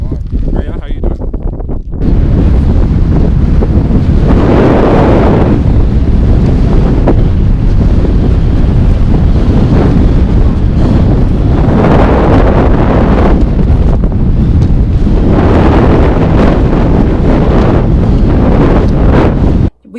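Strong wind on a cloudy ridge in Guatemala buffets the microphone in loud, roaring gusts that rise and fall for about twenty seconds, with no other sounds.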